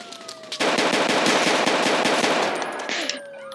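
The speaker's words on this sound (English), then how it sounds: "Shots are still being fired." Rapid automatic gunfire from a Roblox police roleplay game rattles loudly in a sustained burst of about two and a half seconds, with a siren-like tone before and after.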